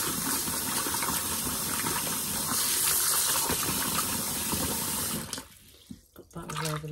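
Kitchen tap running steadily into a sink, close and loud, while homemade butter is washed under it, gushing continuously for about five seconds before the flow stops and quieter handling sounds follow.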